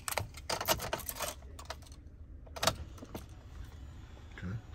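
Car keys jangle in a bunch while the key is turned on inside a Cadillac Escalade, with bursts of metallic clinking, a short quiet pause, then more jingles and faint clicks, close by.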